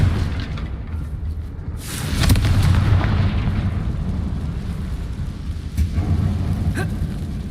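A Confringo spell detonating in a mine that looks like a tomb in Hogwarts Legacy: a deep, rumbling blast swells and rolls on as a long, loud, roaring boom with scattered crackles, no talk over it.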